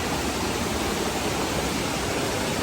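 Strong current of the Mother Falls waterfall, a steady, loud broadband rush of blue water that fills the whole span without pause or voices.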